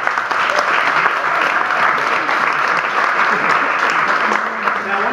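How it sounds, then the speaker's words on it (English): An audience at a university student political debate applauds, steady dense clapping from a full room that holds evenly for several seconds. "so give him a round of applause."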